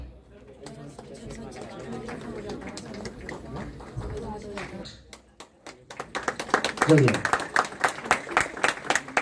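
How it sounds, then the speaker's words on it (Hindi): At a state school cleanliness award ceremony, an announcer reads out names over a loudspeaker, then the audience breaks into rhythmic, repeated clapping that builds under a voice. "तालियां तालियां"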